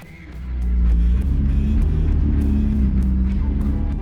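A McLaren 675LT is driven into the shop, its engine rising into a steady, loud, close rumble that holds for several seconds.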